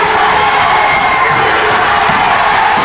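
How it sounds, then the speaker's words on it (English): A roaring wrestling crowd at a flag match cheers and shouts continuously, loud and dense with whoops and yells, no commentary audible over it. "The crowd's going nuts."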